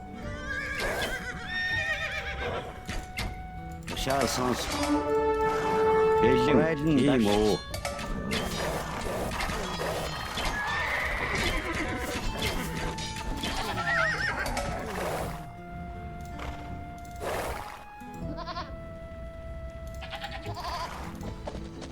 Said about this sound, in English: Bring horses to the fire to raise these powerful horse archers.